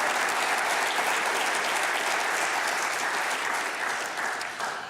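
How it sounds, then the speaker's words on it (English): Large audience clapping for guests at an event, a broad continuous wash of applause holding steady for several seconds before tapering near the end, no voices on top. "How about a big round of applause for all the guests that we saw here today?"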